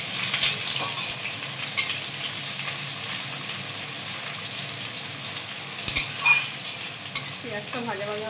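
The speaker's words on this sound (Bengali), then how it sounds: "পেঁয়াজটা ভাজা ভাজা হতে থাক" Chopped onions fry in hot oil in a pan while luchi and aloo dum are being prepared, giving a continuous soft sizzle broken by a few sharp clinks and stirring scrapes, with no talking.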